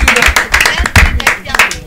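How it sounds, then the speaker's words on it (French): A few people clap together for a guest on a talk show, a quick uneven patter of close, loud hand claps in short bursts over a couple of seconds. "applaudissements pour Caroline"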